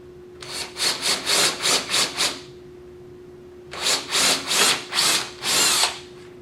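A power drill with a 1/4-inch bit whirs in two bursts of short, rhythmic pulses, about seven each, separated by a pause of quiet.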